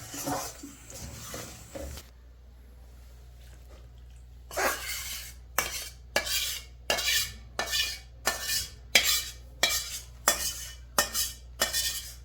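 Ghee mixture being stirred into gond pak sweet, a Gujarati winter sweet with edible gum, heard as about a dozen sharp metallic scrapes and clinks of a spoon against a pot in a steady rhythm after a quiet stretch, close and fairly loud.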